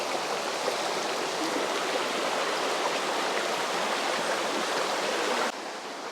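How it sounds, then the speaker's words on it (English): A small babbling river in Austria flowing steadily nearby, a constant rushing, hissing stream of water throughout with no talk, dropping slightly in level near the end. "We've got to cross the little babbling river."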